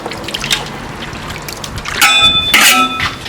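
Water pouring and splashing over pork ribs being rinsed of foam by hand, with short bursts of running water and a few light clinks of bone against a bowl or pot.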